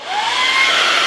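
A hair dryer runs loudly and steadily up close, its airflow roar slightly muffled and shifted in tone by a palm covering the back of the dryer.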